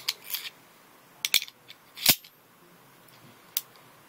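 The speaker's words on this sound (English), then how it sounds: "Magazine release." Sharp metallic clicks from a Phoenix HP22 pistol as its magazine release is worked, a few isolated snaps close up with quiet gaps between them.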